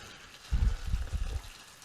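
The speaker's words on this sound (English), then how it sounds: "I'm going to get some water running here." Cool water runs from a tap while preparing for a safety-razor shave, a low gushing splash that starts half a second in and flows steadily and close by at moderate volume.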